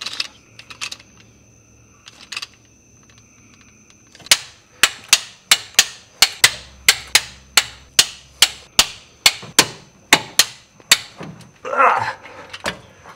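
Ratcheting wrench torques bolts during a Hemi engine swap into a Dodge Ram, producing a long run of sharp, evenly spaced metallic clicks close by, about one per half second, after a few scattered quieter clicks.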